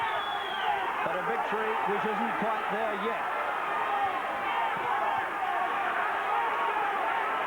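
A boxing arena crowd of about 3,000 roaring and cheering a fighter on during a bout, a dense, steady wall of noise under a commentator's voice.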